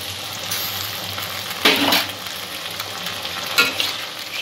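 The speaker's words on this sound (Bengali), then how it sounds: "আদা রসুনের পেস্টটা দিয়ে দেব।" Ginger garlic paste hits a hot pan for Bengali chicken ghugni and fries with a steady sizzle, broken by two louder bursts of stirring and scraping, close and without talk.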